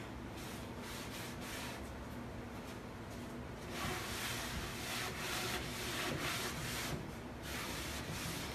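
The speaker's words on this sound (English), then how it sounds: "I'm just lightly wiping everything off, making sure it's nice and clean" Furniture is wiped down with a cloth and tap water in slow, soft rubbing strokes, a faint steady swishing that comes in repeated passes with no voices.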